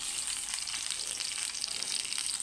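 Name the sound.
frying chopped onion in a pan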